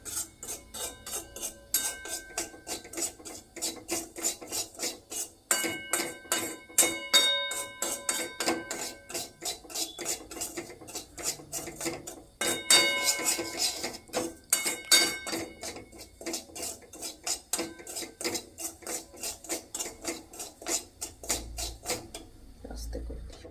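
Semolina pulao being stirred in a metal pan, a steady run of scraping, rasping strokes of a utensil against the metal, with a few brief pauses between bursts.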